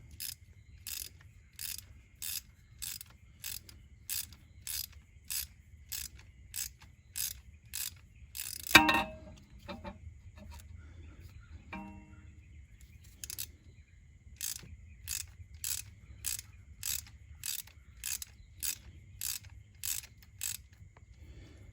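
A tool turns the rear brake caliper piston on a 2019 Honda Civic, producing a quiet, regular series of ratcheting clicks, interrupted midway by a single sharp clunk before the steady clicking resumes.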